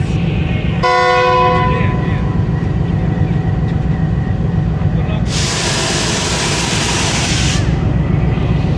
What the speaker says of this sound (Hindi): गुजरात इनिशियल डिपार्चर विसल हो गया।